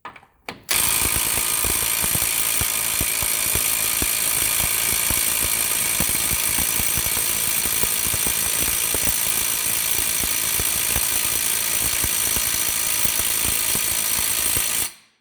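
A loud, continuous DeWalt impact wrench hammering off a 32 mm CV axle nut on a 2009 Subaru Forester, rapid mechanical rattling for over ten seconds before cutting off abruptly.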